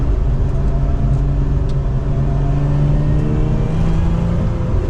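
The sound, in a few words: 2024 Lotus Emira mid-engine sports car driving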